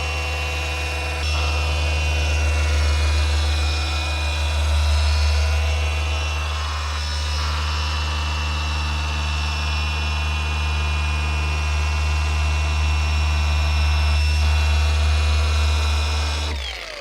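Liquid Elements machine polisher with a 5-inch pad working a motorhome surface, a steady close electric whine and hum running unbroken for the whole stretch with slight pitch shifts, no talking.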